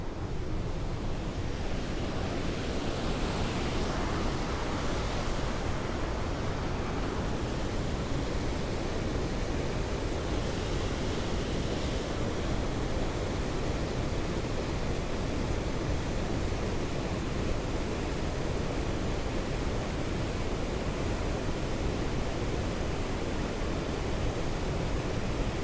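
White River Falls roars as a continuous, even, broadband rush of falling water, steady throughout and alone, with no talk.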